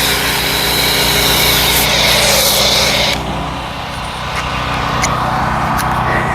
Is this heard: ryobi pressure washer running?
yes